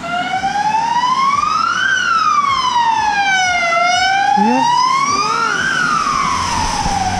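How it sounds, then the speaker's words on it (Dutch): An ambulance siren wails slowly up and down, loud and near, on a rainy street in Ronse, Belgium, with a brief exchange of voices beneath it. "Kijk, daar komt de ziekenwagen."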